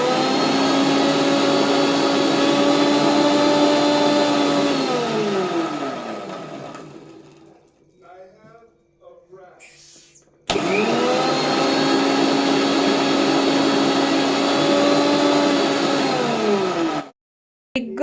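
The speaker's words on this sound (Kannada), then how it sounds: "Egg blend ಮಾಡಾಯಿತು." An electric blender whirs loudly as it beats eggs for an omelette, running steadily, slowing to a stop midway, then starting again at full speed before cutting off near the end.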